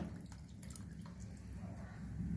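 Tamarind juice is poured into a pot of dal with mixed vegetables, making a steady, soft liquid splashing and trickling under a faint background hiss.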